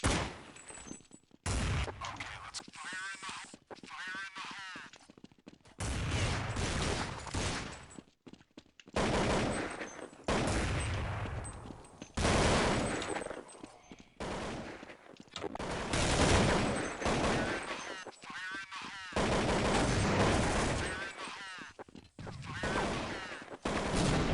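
Rapid bursts of gunfire from the video game Counter-Strike 1.6 ring out loud and close in repeated volleys, separated by short gaps.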